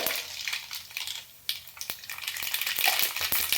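Hot ghee sizzles with a scattering of sharp little pops and crackles from mustard seeds, growing busier toward the end, close and fairly quiet.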